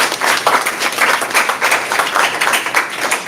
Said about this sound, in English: So a round of applause to you as well.